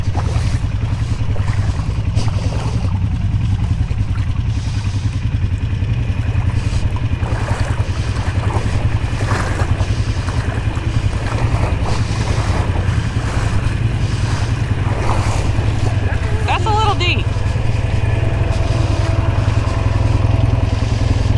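A lifted truck on new tires crawls in low-gear four-wheel drive through deep water, its engine a steady, loud drone mixed with rushing water and buffeting wind for the whole stretch, with no talking.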